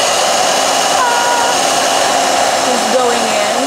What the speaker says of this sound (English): Just going in with the hair dryer.